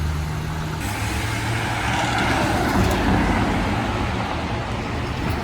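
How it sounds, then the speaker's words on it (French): A Porsche 911 Turbo S of the 991 generation pulls away on a street in Monaco. Its engine note is loud and close and rises steadily, against a broad rumble of surrounding traffic. "911 Turbo S qui est sur le départ, les phases 991"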